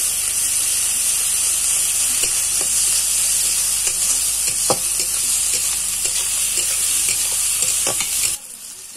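Ginger paste sizzling and frying in hot oil in a pan for a soybean kofta curry, a loud steady hiss close up with occasional stirring scrapes, ending abruptly.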